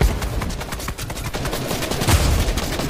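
Heavy sniper rifle fire in the video game Fortnite, heard as dense, loud gunshot cracks and booms packed together over a steady background of game noise, with no talking.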